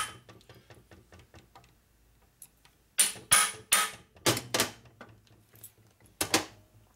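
Heavy hammer blows drive a screw tight on the transmission of a 1961 Harley-Davidson Sportster XLCH under rebuild: light tapping at first, then a pause, then a run of loud, sharp metallic hits, close and spaced unevenly.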